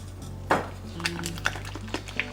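Metal spoon clinking and scraping in a big pot of seafood soup as blended okra is stirred in, a few sharp knocks over a steady low hum, close and fairly loud.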